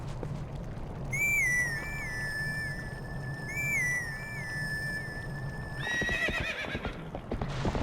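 A horse neighs twice in long, whinnying calls, then hooves clatter in a quick clip-clop as it gallops, all with a game-like, slightly synthetic sheen, from The Legend of Zelda: Twilight Princess HD.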